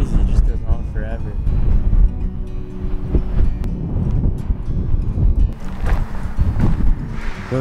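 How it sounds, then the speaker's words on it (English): Heavy gusting wind in wide open country buffets the microphone with loud low rumbles and whooshes while a person talks throughout. "It's so windy here."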